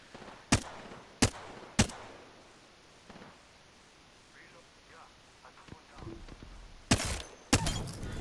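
Flatline rifle gunfire in a video game, several sharp, loud single shots spaced apart, then a quieter stretch of faint in-game sounds before a tighter burst of shots near the end.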